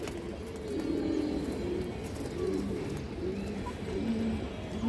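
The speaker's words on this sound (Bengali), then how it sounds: "খুবই বড় সাইজ এবং খুব হেলদি কবুতরটা" Close, steady cooing from big, healthy fancy-breed pigeons rises and falls in soft, throaty waves across the whole stretch, with no one speaking over it.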